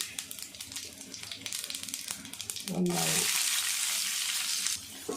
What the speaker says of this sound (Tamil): கடுகு பொரியட்டு நல்லா சவுண்டு கேட்கணும்